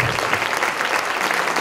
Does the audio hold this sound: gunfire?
no